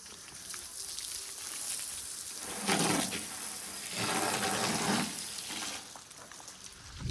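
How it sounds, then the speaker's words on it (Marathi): Water gushing from a spray outlet at a village house construction site in Satara, a close rushing splash that swells in bursts and eases between them, with no talk. "पाणी येतो आहे असं पाणी"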